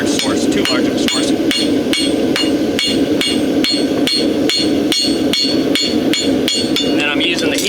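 A farrier strikes a horseshoe on an anvil with the heel of a hammer to draw out a clip, a fast, even series of loud, ringing metallic blows repeated about twice a second, close by.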